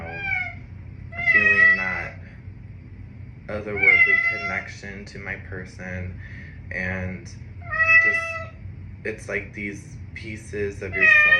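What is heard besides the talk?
kitten meowing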